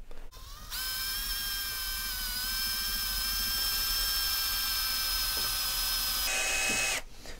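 An electric drill bores through a block for a headless bass guitar headstock, whining steadily at close range for about six seconds after a brief start, then cutting off.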